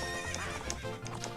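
A horse neighs in Zelda: Ocarina of Time, a shrill whinny heard over clip-clopping hooves and game sounds, quiet and without talk.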